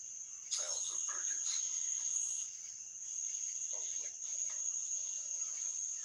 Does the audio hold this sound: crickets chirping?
yes